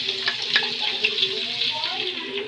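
Garlic fries in a pan as the base for a crab curry, a dense, continuous crackling sizzle broken by light stirring scrapes, close and moderately loud.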